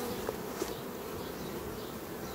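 Honey bees swarm and buzz around a hive under attack by robbing bees, a steady dense drone with a few louder close passes of individual insects, no voices.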